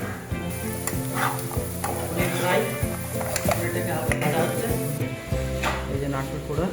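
Grated coconut frying in a pan for a paneer dish, with a steady loud sizzle under repeated rhythmic scrapes and knocks of a spoon stirring against the metal, and faint voices now and then.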